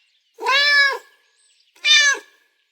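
A cat meows twice, clear and close, each call drawn out and separated by a short silence.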